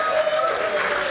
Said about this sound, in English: Give yourselves a cheer and a round of applause.